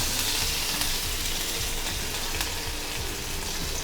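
Mustard seeds, urad dal, cumin and curry leaves sizzle steadily in hot oil, a dense continuous frying hiss with small crackles and pops running throughout, close and alone with no talking.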